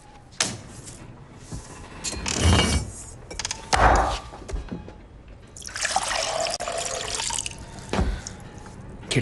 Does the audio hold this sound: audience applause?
no